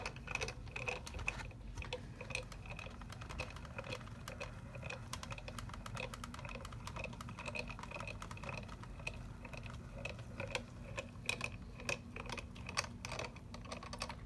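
A four-layer paper sandwich rolling through a small manual die cutting machine gives a steady stream of fine, close ticking and clicking, like a ratcheting mechanism, over a low continuous rumble with no talk.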